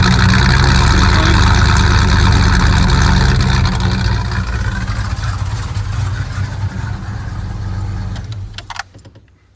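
A Ford F150 Safari's engine running, heard close at the exhaust: a loud, steady low rumble with broadband roar that eases slightly midway, then dies away just before the end.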